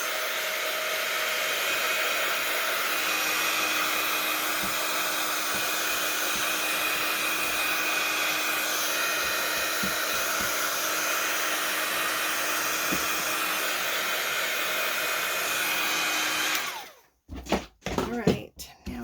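Hair dryer blowing steadily to dry paint on baby stickers, a constant close whoosh for most of the stretch before switching off near the end, followed by a few handling knocks.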